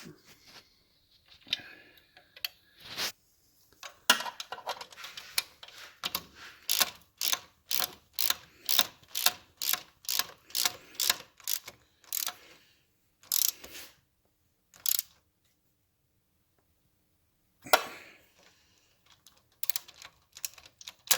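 Ratchet tightening bolts on a 1971 Triumph Tiger 650cc motorcycle during restoration: close, crisp clicking in quick bursts, then a long steady run of evenly spaced clicks, followed by a few scattered short bursts with pauses between.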